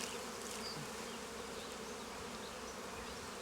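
Honey bees buzz at a hive, a dense, steady swarm drone filling the air close by, with no voices.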